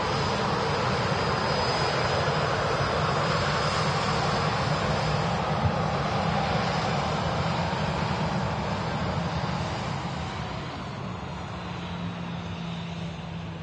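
An Airbus A380 on a wet runway at Manchester Airport produces a loud, continuous broadband engine roar with hissing spray that holds steady, easing slightly toward the end.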